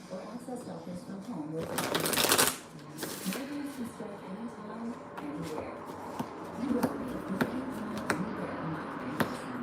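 Tarot cards being shuffled, with a loud riffle burst near the start followed by softer scattered card flicks and taps, all under a person talking.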